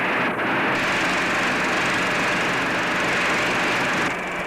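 Offshore racing powerboats from 1967 roaring away from the start, a dense, continuous, loud broadband engine roar sustained throughout with no voices.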